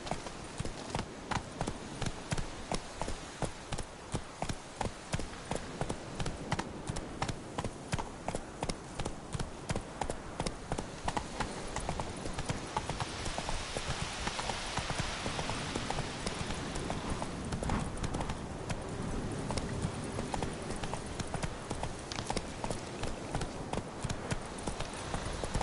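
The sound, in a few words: horse Roach trotting hooves, from video game The Witcher III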